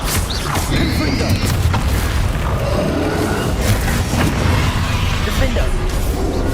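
Confringo fire-spell blasts from Hogwarts Legacy combat give loud, dense booms and crackling bursts that run without a break through the whole stretch, thick with battle noise.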